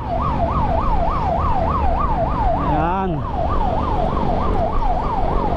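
An ambulance siren wails loudly on a road in Pasay, a steady rising-and-falling cycle with a brief quicker yelp burst midway, over constant traffic noise, with a single short spoken word.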